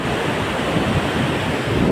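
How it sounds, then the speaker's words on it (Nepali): Strong wind blowing across a very high bridge, a loud, constant roar and buffeting rumble on the microphone throughout, with no voices. "यहाँ चाहिँ यस्तो मजाको हावा आउँदो रहेछ यार"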